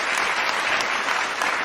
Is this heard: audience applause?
yes